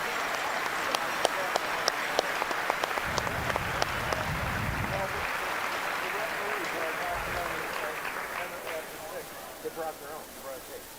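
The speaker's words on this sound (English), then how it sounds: "would like you to give them a quick round of applause if you could" Crowd applause at a Motor City Rockers vs Binghamton Black Bears ice hockey game, a broad steady wash of clapping filling the arena and holding for the whole stretch, with a few sharp louder claps and some faint voices mixed in.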